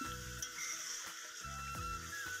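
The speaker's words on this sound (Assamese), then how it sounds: "আৰু অলপ ভাজিম" Spice masala fries in oil for duck curry, a soft continuous sizzle with faint stirring scrapes, close but quiet and steady throughout.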